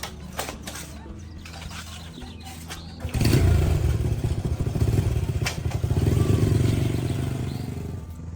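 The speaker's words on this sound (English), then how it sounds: "they both get on their old green motorcycle and head to the supermarket" Old green motorcycle carrying a dad and his young daughter to the supermarket: after about three seconds of quiet, the engine comes in as a close, steady rumble that swells and holds while riding, with some clatter.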